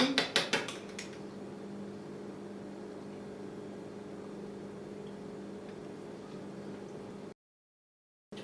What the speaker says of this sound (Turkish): Şöyle birazcık karıştıralım. Karışmış olsun.